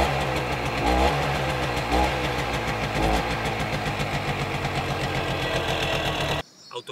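A cold Tomos two-stroke moped engine runs close by with a busy, buzzing rattle and a few rhythmic surges in revs, then cuts off abruptly near the end.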